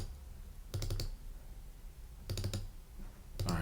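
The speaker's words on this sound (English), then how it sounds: "Double click on these." Mouse clicks in Logic Pro X on a computer, quick bursts of clicking in three separate clusters, close and fairly quiet over a low background hum, with no talking.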